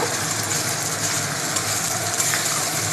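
Ground spice paste sizzles steadily in a hot pan while egg biryani is cooked, a close, even frying hiss with a faint crackle that holds constant throughout.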